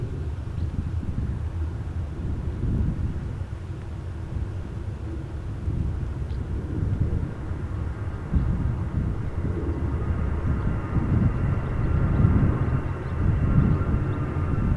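A 16-year-old Boeing 777 airliner departs Amsterdam Schiphol, its low engine rumble rising gradually and swelling louder toward the end, mixed with wind buffeting on the microphone.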